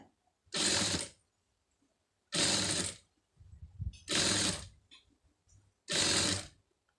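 A sewing machine stitching piping on fabric runs in four short, loud mechanical bursts, each about half a second, separated by pauses with faint handling noise, close up and with no talk.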